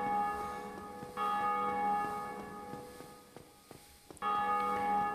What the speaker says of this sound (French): Quelqu'un d'autre qui utilise la cloche?